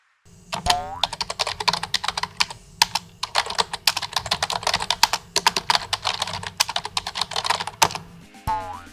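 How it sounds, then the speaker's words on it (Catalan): Computer keyboard typing in a home, a steady run of quick, crisp key clicks with irregular rhythm, close and fairly loud, continuing for several seconds before stopping. "Ara escoltarem el so d'un teclat d'ordinador."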